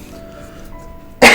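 A single sharp, close cough bursts out at the very end after quiet room tone, loud and abrupt.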